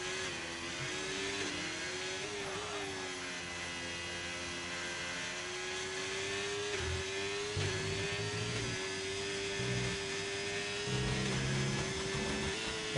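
A racing car engine in a sim racing video game at the Spain circuit hums steadily at high revs, with a brief dip and rise as it downshifts through a corner, continuous and close with no talk.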